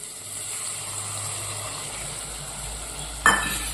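Curd being stirred into a bottle gourd curry in a pan, a soft continuous sizzle under light stirring, ending with a sudden louder clatter of a spoon against the pan.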